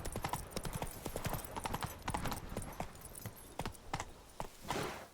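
Roach the horse's hooves clip-clop steadily on the ground in Witcher 3, a brisk close rhythm of repeated hoof strikes.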